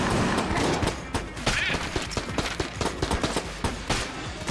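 Rapid AK rifle fire in the video game Enter the Gungeon, a loud stream of sharp, closely spaced shots with heavy thuds mixed in, continuous across the stretch.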